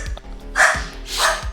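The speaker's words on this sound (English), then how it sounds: "Hi, doggies! Why are we barking?" Pet dogs bark indoors, two sharp, loud barks about half a second apart with small yips and thumps in between, close to the listener and with no talk over them.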